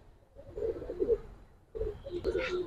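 Low throaty cooing from a pigeon, one of an aggressive pair of Giribaz high-flyer pigeons, in two rumbling phrases close by with faint voices in the background.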